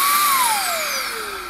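A Makita 40V cordless blower whirs loudly up close, its motor pitch gradually dropping as it spins down.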